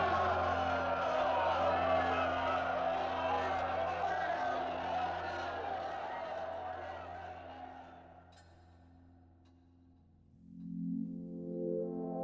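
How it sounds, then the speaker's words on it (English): Archival recording of a massive stadium crowd cheering Hitler at the 1936 Berlin Olympics, a dense, sustained roar that fades out after about eight seconds, followed by a low hum and a brief sound at the end. "Now they're all cheering him, and the whole crowd have raised their right arm."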